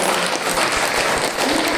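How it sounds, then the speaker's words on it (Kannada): Steady applause from an audience at a hilltop temple pilgrimage gathering, honoring a bhajan singing group, a short, continuous burst of clapping. "ಸೊ ಇವರೆಲ್ಲರೂ ದಯವಿಟ್ಟು ಒಂದು ಜೋರಾಗಿ ಚಪ್ಪಾಳೆ ಬರಲಿ"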